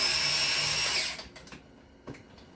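A DeWalt power tool breaking loose a bolt on a 6.5L diesel engine during a cylinder head job, a loud whirring burst for about a second, then quiet clanks and rattles.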